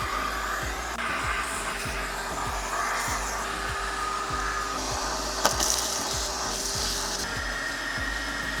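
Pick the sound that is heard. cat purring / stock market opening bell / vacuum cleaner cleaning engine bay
vacuum cleaner cleaning engine bay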